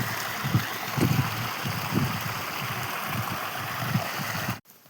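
Water gushes into a filled farm irrigation channel, a close, steady rushing with low rhythmic gurgling surges, cutting off suddenly at the end.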